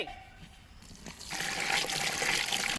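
Water is poured into gram flour batter in a steady splashing stream after a brief quieter moment with a small knock, continuing until it cuts off.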